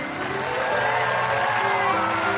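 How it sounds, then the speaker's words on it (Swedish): Audience applauding an orchestra at a live concert at Liseberg, a steady, dense wash of clapping with faint crowd noise throughout. "se en riktigt stor applåd till den underbara orkestern"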